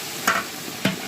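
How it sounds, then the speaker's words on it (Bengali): Chicken biryani cooking for a gaye holud celebration, with two brief scraping stirs of a ladle in the pot over a soft, steady sizzle. "এখানে গায়ে হলুদের বিরিয়ানি রান্না চলতেছে"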